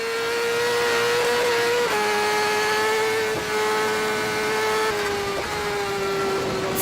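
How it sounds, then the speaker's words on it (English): Racing motorbike screaming at full throttle above 300 km/h on a road race, heard from onboard as a loud, sustained high-pitched engine howl with brief dips at gear changes, alone and constant throughout. "Full throttle beyond 300 kilometers an hour with the front wheel that doesn't want to stay down."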